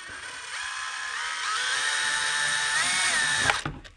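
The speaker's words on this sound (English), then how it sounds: "Oh, my drill's getting stuck." A power drill whines steadily, its pitch rising and shifting a little as it strains, then it cuts off abruptly with a brief clatter. No voices, fairly close.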